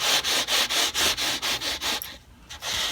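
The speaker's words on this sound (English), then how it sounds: "Polishing the frets and getting that all done." The frets of an HB TE-40 TBK Deluxe guitar are polished along the fretboard in quick, even back-and-forth rubbing strokes, close and loud, briefly pausing before resuming.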